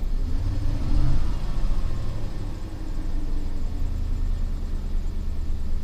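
A repaired pickup truck engine with a previously misfiring cylinder runs close and smooth: a steady, even low rumble with no stumble or miss, alone without talk.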